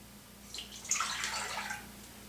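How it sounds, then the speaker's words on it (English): Milk pours into a pot in a kitchen, a short, faint liquid splash that swells and fades over about a second, with no talk. "first thing I do, I pour in the milk, slightly less than 2 cups"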